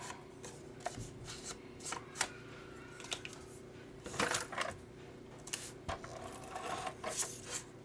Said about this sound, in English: where I cut it, the paper trimmer.